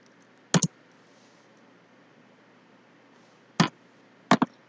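A few isolated clicks on a computer keyboard, three short clusters of keystrokes spaced apart in a quiet room, close and crisp with no talking.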